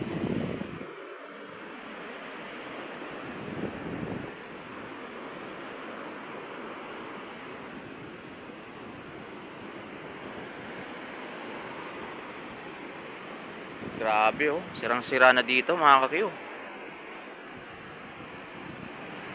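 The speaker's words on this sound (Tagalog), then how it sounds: "Ito kasi dagat ng New Washington" Steady wash of sea surf along the coast of New Washington, a continuous roar mixed with wind buffeting the microphone, while someone speaks briefly near the end.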